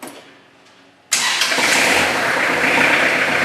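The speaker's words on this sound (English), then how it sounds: "Okay, we'll start the tractor." After a quiet moment, a Kubota tractor engine cranks and catches abruptly, then settles into a loud, steady running rumble.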